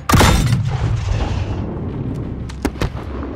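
A grenade blast in Call of Duty: Modern Warfare, during the nighttime Embassy campaign mission, opens with a loud, heavy boom that rumbles and decays, followed by two sharp nearby gunshots near the end.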